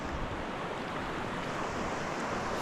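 River rapids roar in a broad, continuous wash of rushing water, loud and close with wind buffeting the microphone and no voices over it.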